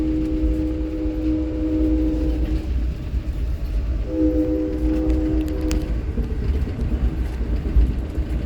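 A train rolls steadily through Cornelia, Georgia, its loud, continuous low rumble broken by a sustained multi-tone horn blast at the start and another midway, with no talking.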